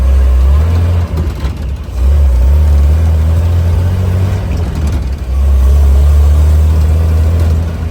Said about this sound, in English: I figured I may as well take it for one, last rip down the driveway